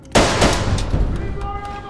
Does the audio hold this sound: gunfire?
yes